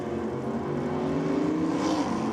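A drag racing car makes a solo pass down the strip in a Modified Eliminator round of an NSW championship series. Its engine roars at a steady, fairly distant level, and the pitch climbs slightly toward the end.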